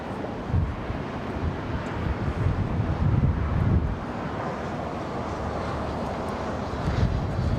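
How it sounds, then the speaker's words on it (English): Strong wind roars steadily across the microphone at Los Angeles International Airport, a loud continuous rumble with gusty swells and a faint, distant aircraft drone, with no talking. "Wow, wind is really picking up, isn't it, Kevin?"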